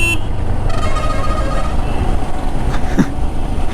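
A truck horn blares on a road in Bangalore, a sustained tonal honk over steady motorcycle engine rumble and wind noise.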